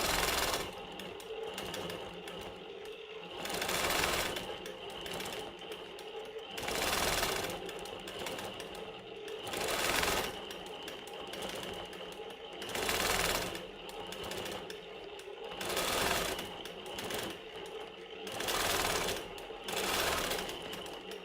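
A longarm quilting machine stitching a grid with ruler work, a steady mechanical needle hum that swells and fades in regular pulses every couple of seconds as each line is sewn, fairly quiet and alone.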